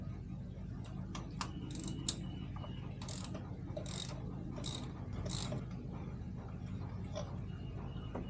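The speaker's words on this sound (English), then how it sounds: "pulling our spark plugs out, we'll need a 5/8 socket and a long extension." Ratchet with a 5/8 socket on a long extension loosening spark plugs in a Dodge Challenger 3.6 V6, clicking in faint, scattered bursts against a steady low background hum.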